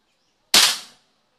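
A single sharp airsoft gun shot fired over a chronograph during a velocity test, a crisp snapping crack with a short decaying tail, alone in otherwise silent surroundings.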